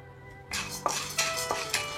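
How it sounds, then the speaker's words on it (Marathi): Half a cup of split roasted chickpeas (dale) dry-roasting in a pan over a low flame while being stirred. Close, soft scraping and light clinks repeat steadily. "हाफ कप डाळे छान असे भाजून घ्यायचे."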